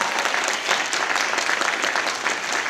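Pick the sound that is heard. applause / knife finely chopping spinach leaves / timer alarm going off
applause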